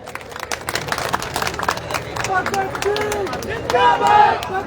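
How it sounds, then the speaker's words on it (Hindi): Applause from a gathering at a village fair in India: steady scattered clapping rising into loud cheering and shouting voices toward the end, crowd noise throughout. "इनके लिए एक बार जोरदार तालियां हो जाए।"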